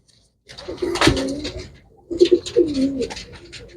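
Pigeons cooing in two short bursts of low, throaty murmuring, close by, with a brief pause between them.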